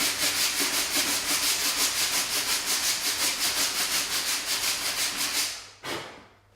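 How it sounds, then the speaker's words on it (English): Steady back-and-forth rasping of sandpaper on a sanding block over a wooden piece during interior painting prep, a fast even rhythm of strokes, close and fairly loud, ending with a brief scrape. "Sand that down."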